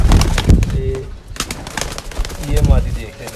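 Teddy pigeons in a breeding setup cooing in short soft bursts, close by, with someone talking over and between the calls.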